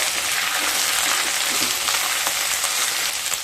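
Ginger, peas and chopped green chillies sizzling in a pan with occasional stirring scrapes, a steady, close, bright hiss throughout, no talking.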